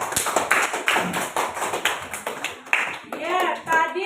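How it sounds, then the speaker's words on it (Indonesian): A classroom of students claps on cue, a loose run of hand claps with uneven rhythm, and children's voices chatter around the claps and over the end. "Terima kasih, tepuk tangan dulu."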